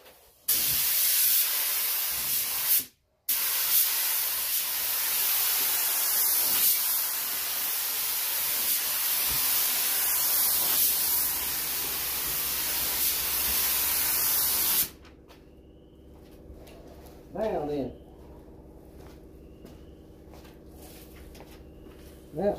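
A rusty 1969 Dodge Charger gets a long, loud, steady hiss of spray paint that stops briefly once, then runs for about fifteen seconds before giving way to quiet.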